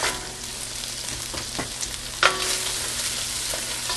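Chopped onion sizzles in a hot pan while the sauce for Dijon chicken is started, giving a steady close frying hiss broken by a few soft scrapes and one sharp clatter of a utensil.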